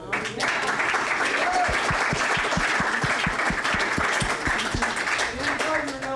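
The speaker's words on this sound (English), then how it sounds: "How about we give a round of applause for Dave and Emily for putting this together?" A crowd at a gathering applauds for Dave and Emily, steady dense clapping held at a loud, even level for several seconds, with voices mixed in underneath.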